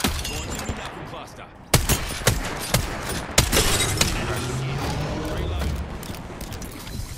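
Gunfire rings out in a chaotic hillside fight on the High Desert map of Apex Legends, with sharp shots cracking at irregular intervals over a busy rumble of battle noise while someone talks.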